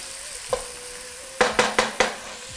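Onions frying in a pan for a potato and curry stew, with a soft steady sizzle and several quick scraping stirs of a utensil against the pan, close and clear.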